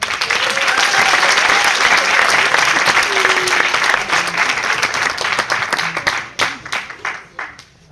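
Loud applause from a school concert audience for a class choir, dense and sustained before breaking into scattered individual claps near the end.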